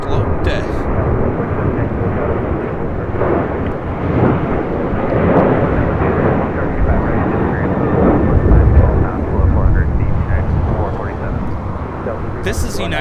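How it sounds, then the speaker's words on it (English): A United Airlines Boeing 737-900ER departing LAX for Cancun, a loud, rumbling jet roar surging and swelling over the span as it climbs, with a nearby voice talking over it intermittently. "1276 taking off to Cancun on a 737-900ER"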